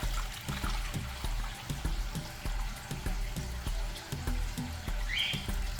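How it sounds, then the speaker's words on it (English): Pineapple juice is strained, giving a soft, continuous trickle and pour of liquid with faint, regular light taps throughout, close and fairly quiet. "I'm gonna strain it"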